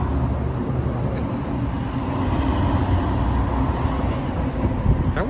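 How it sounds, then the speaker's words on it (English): Heavy trucks pass by on a city street in Ocala, a steady low engine and tire rumble that swells and fades over several seconds, with no talking. "here comes some trucks"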